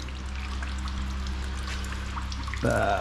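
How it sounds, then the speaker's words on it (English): Engine oil from a TVR Cerbera drains out in a steady, close pour and trickle, with a brief shift in the flow near the end. "drain the oil on this side here"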